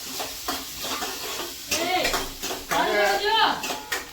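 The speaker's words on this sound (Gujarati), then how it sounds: "હવે નાખી દીધા પ્યાજ બી થોડા બ્રાઉન થવા દેવાના" Onions and garlic frying in a pan, a soft continuous sizzle with occasional stirring scrapes, while people talk over it close by.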